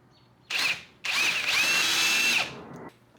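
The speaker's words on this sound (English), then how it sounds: "Now I'm going to go through with the correct size drill." A power drill whirs close by in a short burst, then runs again for about a second and a half with a steady high whine before winding down, drilling a hole for a barrel nut in a DIY CNC dust boot.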